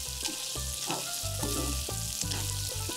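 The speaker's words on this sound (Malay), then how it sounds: "Last sekali baru masukkan ikan bilis goreng. Kacau-kacau sekejap aja, terus tutup api." Fried anchovies being stirred into sambal in a pan, with steady sizzling frying and repeated scraping stir strokes in a quick rhythm, close and clear with no talking.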